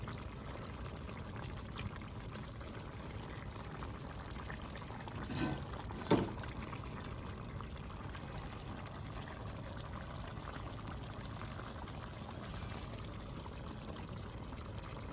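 A ladle scoops broth from a pot of soup, a faint liquid pour and trickle with a brief soft clink midway against a low steady background.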